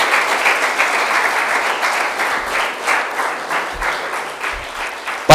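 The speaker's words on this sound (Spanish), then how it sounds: "Den un aplauso al Señor" A church congregation applauds during a Spanish-language service, a steady, fairly close wash of clapping that fades slightly near the end, with a sharp louder knock at the very close.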